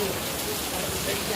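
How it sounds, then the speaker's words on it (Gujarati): A heavy downpour falls during a rainy spell in Morbi, Gujarat, a steady, close, unbroken roar of rain on surfaces, with faint voices beneath it. "જો ભાઈ હવે તો વધી ગયો વરસાદ ભાઈ."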